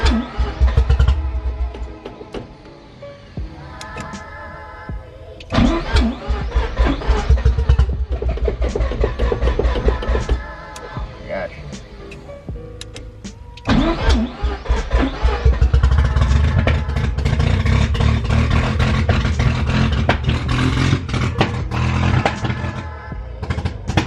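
A right-hand-drive Mazda RX-7 FC rotary engine starts cold. Its loud, close idle surges into repeated throttle blips and revs, settles back between bursts, then holds a high, rough, steady run near the end.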